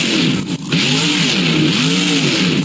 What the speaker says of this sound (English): I just heard a zombie monster truck